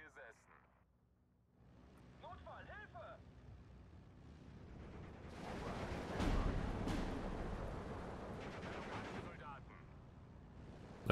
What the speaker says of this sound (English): We get a nice bombing strike in here. This has a 500 kilogram bomb, so should do a decent chunk of damage.